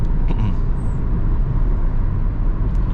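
A Hyundai i20 with a 1.4 MPI engine and automatic gearbox accelerates, heard from inside the cabin as a steady, loud low engine drone and road rumble that holds without a gear change.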